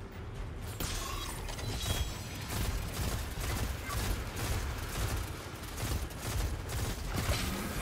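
Dense, continuous gunfire from the video game Destiny 2 crackles throughout, with overlapping shots and mechanical clatter forming a steady wall of noise.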